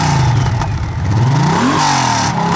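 Up close and loud, a Honda Valkyrie Rune motorcycle engine revs, climbing from a deep rumble and rising in pitch on a hard throttle blip before settling back, with no talk.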